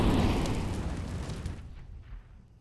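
An incendiary grenade bursts in CS:GO with a loud whooshing boom that fades out into a fainter crackle over a couple of seconds, with no voices.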